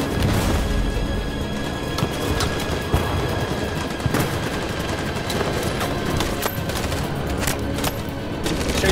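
Dense, continuous gunfire in Detroit: Become Human, a loud fusillade of overlapping shots and booms with no pause.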